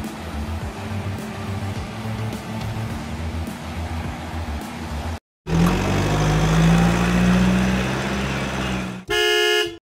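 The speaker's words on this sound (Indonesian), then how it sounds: "Traktor" A farm tractor's low engine chugs and idles, then a heavier motor rumbles with a rising drone, cut off by a short burst of honking.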